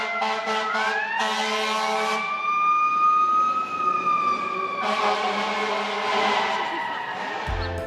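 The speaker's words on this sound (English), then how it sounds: "Wow, what is that? Oh my God. Fire engine." A New York fire engine siren passing on a city street, loud wailing tones rising and falling with horn-like bursts, close and dominating the scene.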